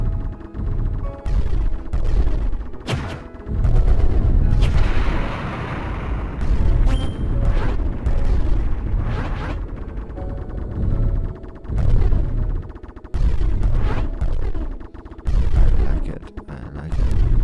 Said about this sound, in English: Just hit a bomb there, just in case.